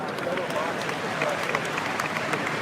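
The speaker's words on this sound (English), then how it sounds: "Round of applause for all the speakers this morning" A large conference crowd at a Bitcoin event in Nashville applauds the morning speakers, a dense, steady wash of distant clapping and cheering that holds throughout with a faint hubbub beneath.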